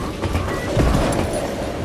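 A train rolls along with a steady rumbling clatter of wheels on rails, close and continuous, in a Western shooter game set around a moving train.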